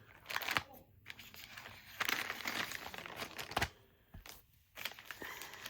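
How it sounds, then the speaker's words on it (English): Quiet crinkling and snipping as scissors cut through packaging, in irregular bursts separated by brief pauses. "Wanted to grab my scissors so I can just cut away at this."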